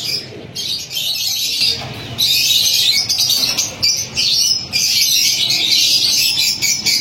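Ferozpuri breed pigeons at a bird market in Karachi, bright chirps and twittering calls rising and falling continuously and close by, with brief gaps and no talk.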